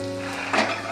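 Boiled chickpeas drop into a hot onion and turmeric tempering in a pan, giving a steady close sizzle that swells briefly into a louder frying hiss partway through.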